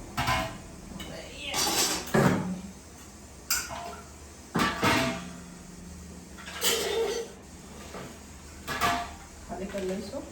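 A large metal cooking pot is handled in a home kitchen, giving several sharp clanks and scrapes spaced unevenly between quieter moments.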